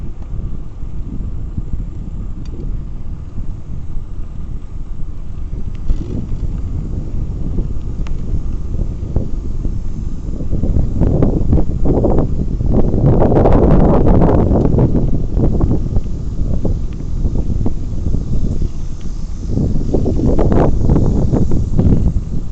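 Steady, loud wind roars into the microphone as a bike rides into a headwind along a river bikeway in Dayton, Ohio, swelling in gusts with no voices.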